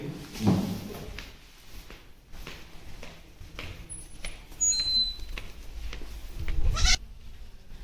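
Goats bleat intermittently on a farm amid rustling and thumps, a couple of calls standing out near the start and end, with faint chirps in between.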